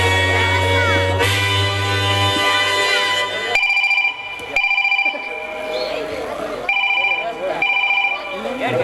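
Telephone ringing during a staged social village drama, an electronic ring tone repeating in bursts over music and crowd noise, with people talking in between.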